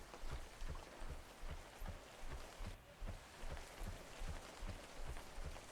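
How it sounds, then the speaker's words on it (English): Steady rain in the video game Webfishing, a dense continuous patter with faint rhythmic low thumps underneath, loud and close throughout with no talking. "Oh my god, and it's raining."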